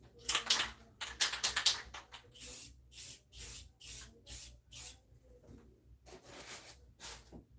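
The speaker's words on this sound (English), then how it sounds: "So we're going to spray this bad boy" Short bursts from a spray can or airbrush weather a model of a Big Boy steam locomotive, about a dozen hissing puffs in quick succession, close and fairly quiet.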